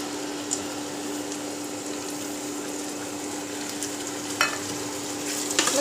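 Onion gravy cooking in a pan with a steady, close sizzle and bubbling, a few brief clinks or scrapes near the end, no voices.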